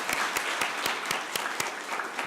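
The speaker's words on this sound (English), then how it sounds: "Let's give them all a round of applause" A room of people at a city council meeting applauds children, including a birthday girl, with fairly faint, distinct claps in a loose rhythm throughout.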